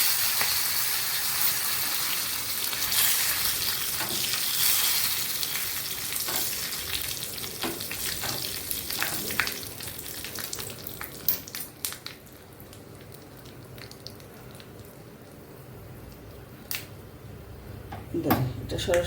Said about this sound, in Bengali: আর দিয়ে দিচ্ছি কয়েকটা কারি পাতা।